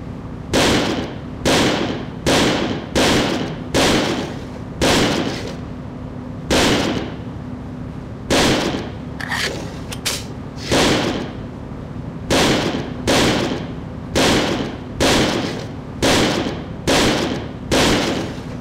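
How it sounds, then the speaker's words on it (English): Pistol shots ring out at a shooting range in the game Second Sight, loud sharp reports repeating in an uneven rhythm, some in quick pairs, with brief pauses between, over a steady low hum and with no talking. "Here, take this ammo and fire it all into the range."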